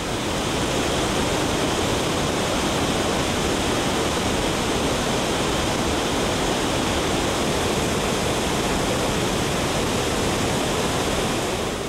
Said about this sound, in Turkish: Geyik Dağları'nda toplanan sular, Çündüre Köyü'nün hemen aşağısındaki Uçan Şelalesi'nde dağın bağrından adeta patlayarak kopuyor